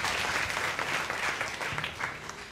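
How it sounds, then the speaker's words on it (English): A live audience claps together at a presentation, a dense, steady wash of hand claps lasting a few seconds with no voices over it. "give yourselves a big clap"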